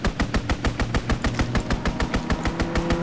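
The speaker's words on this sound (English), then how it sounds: "Fighter pilot inbound, strafing the target." A fighter plane strafes a target with machine guns in a video game, a steady rapid stream of evenly spaced, loud, punchy shots lasting throughout, with no speech.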